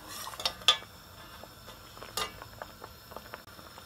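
Red wine sauce being whisked in a pan, with light irregular clinks and scrapes of a whisk against metal over a faint bubbling simmer, no voices.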